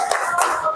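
A class does the tepuk fokus focus clap, a quick burst of rhythmic hand claps lasting under a second, close and fairly loud.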